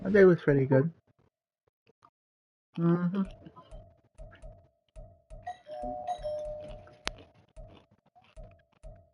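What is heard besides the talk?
doorbell ringing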